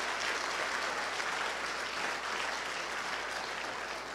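Applause from a church congregation during a service, a soft, even wash of many hands clapping heard at a distance, steady throughout with no voices on top.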